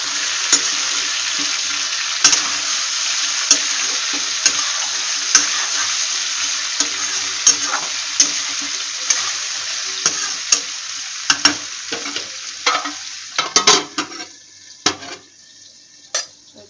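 Cauliflower and potato frying in a pan on a home stove, a steady close sizzle with frequent scraping stirs and utensil clicks against the pan, with no talking.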